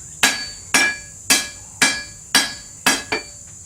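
A small hammer strikes a sword blade six times in an even, deliberate rhythm, each blow ringing briefly with a bright clink before the next.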